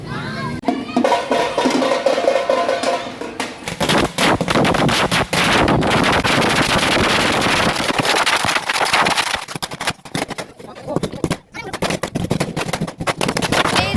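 Rapid strings of firecrackers crackle and pop loudly in dense bursts at a village festival fair after rain, with a crowd murmuring in the background.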